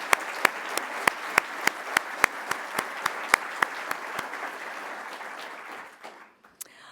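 An audience at an awards ceremony applauds, with dense steady clapping overlaid by sharp regular knocks, then the applause fades out near the end.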